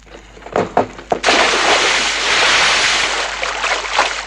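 A swimmer dives off a diving board into a swimming pool: a few light thumps come first, then a loud splash that rolls into a long, rushing wash of water, with no voices.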